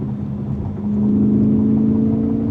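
A BMW E92 M3 V8 pulls under heavy throttle, heard from inside the cabin, its low engine drone swelling partway through and then holding steady and loud.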